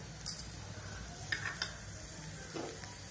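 Coriander and fenugreek seeds fry in a tablespoon of oil in a kadai, giving a soft, close sizzle broken by a few light stirring scrapes and metallic clinks.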